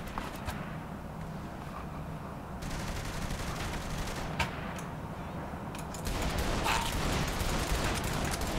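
Gunfire in Saints Row: The Third rattles in dense, continuous bursts with sharp cracks scattered through, growing louder near the end over a busy game background.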